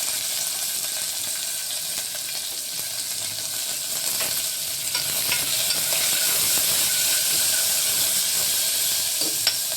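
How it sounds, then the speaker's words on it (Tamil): Chopped onions fry in a pan just after mustard seeds, giving a steady, close sizzle and hiss with faint scraping stirs throughout, growing slightly louder toward the end. "கொஞ்சம் வெங்காயத்தை போட்டுக்கிறேன்"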